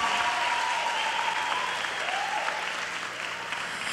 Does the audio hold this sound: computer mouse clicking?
no